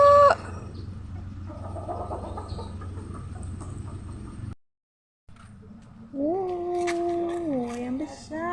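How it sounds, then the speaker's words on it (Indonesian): A large, brightly coloured rainbow rooster clucks and crows close by, with a short silent gap midway, then a long, rising and falling crow that stands out loudly over faint background voices. "Ini besar sekali ayamnya"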